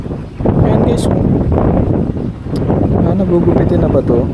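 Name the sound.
wind blowing on a boat, wind noise on microphone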